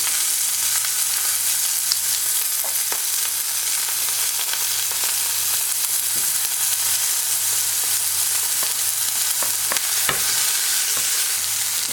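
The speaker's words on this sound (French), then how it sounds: "ils nous disent d'ajouter un tout petit peu d'huile d'olive et de venir mettre l'ail" Mushrooms and garlic sauté in a little olive oil in a pan, giving a steady, dense sizzle and crackle that runs for the full length, with a few soft stirring knocks.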